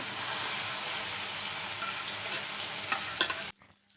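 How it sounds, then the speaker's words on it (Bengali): Fish frying in a pan gives a dense, loud, continuous sizzle close by, with a few clinks of turning near the end before the sound cuts off abruptly to near quiet. "এদিকে মাছটা ভাজা করে নিচ্ছি"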